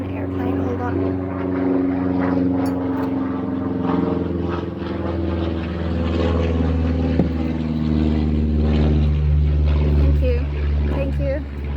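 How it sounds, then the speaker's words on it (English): An airplane flies overhead, producing a loud, steady propeller-like drone with a continuous rumbling hum that holds for the whole stretch without fading. "Freaking airplane, hold on."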